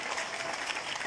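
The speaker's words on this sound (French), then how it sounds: "Acclamons le Seigneur." Applause in a church during a convention, a brief, steady wash of many hands clapping together at moderate loudness.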